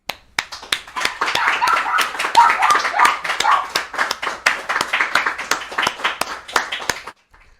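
Scattered clapping from a small group at a spoken gathering, with sharp distinct claps that swell, hold in an uneven rhythm, then stop abruptly.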